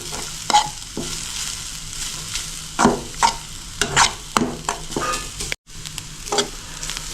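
Grated carrots for carrot halwa stir-fried lightly in a pan, a soft sizzle under repeated scraping strokes of a spoon against the pan bottom, close, with a brief silent gap.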